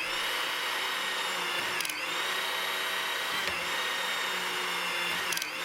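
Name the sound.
hydraulic torque wrench driven by pump rotating a nut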